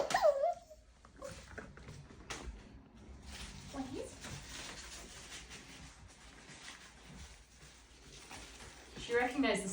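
A young female puppy lets out thin, high whimpers at the start and again near the end, while people talk through most of the stretch in between.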